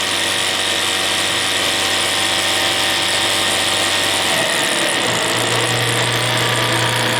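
A live steam speed engine with a double cylinder runs on a Scott double-flow boiler fired by two burners, giving a steady, loud mechanical whir and clatter whose low hum shifts pitch partway through.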